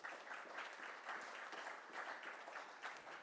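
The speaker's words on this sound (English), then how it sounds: "For Emma, to Thierry, Jürgen, Mark and Anne, a warm round of applause." Audience at a regional Ireland conference closing giving a round of applause, a steady dense wash of clapping from a crowd, faint and somewhat distant, with no talking over it.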